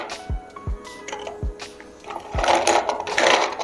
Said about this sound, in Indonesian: Sekarang kita mau langsung tambahin es batunya aja.